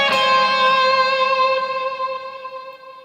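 Second electric guitar part from the bridge of a song, through a Line 6 Helix: a single bright plucked note or chord ringing out and slowly decaying, close and alone.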